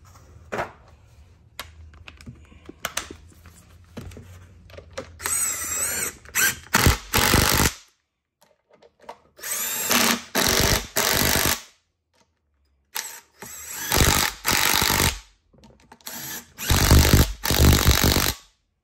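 A power tool zaps down 18 mm bolts on rear dual calipers of an S14, firing in several loud rattling bursts of a second or two each, separated by pauses and quieter clicks.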